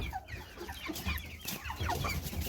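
Broiler chickens suffering in hot weather cluck and murmur continuously, a flock of overlapping soft calls close by, steady and moderately loud with no talk.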